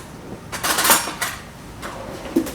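A spoon tossing grilled eggplant with balsamic olive oil dressing in a dish: a few scattered clinks and scrapes, louder near the start and fading to light taps.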